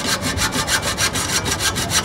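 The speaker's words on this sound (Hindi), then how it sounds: "तो भाई पाइप तो कट चुका है" A motorcycle's stock exhaust pipe is being cut with a steady back-and-forth sawing rhythm, close and loud, roughly four to five rasping strokes per second throughout with no talking.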